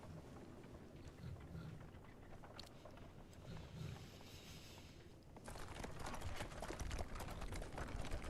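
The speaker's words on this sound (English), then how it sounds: "you just come here to this weird little obelisk-looking mofo. And then your carriage shows up." A horse-drawn stagecoach arrives in the video game Bloodborne: a rumbling, windy wash of hooves and rolling wheels that builds, then swells into a louder, brighter clatter near the end, with no voices.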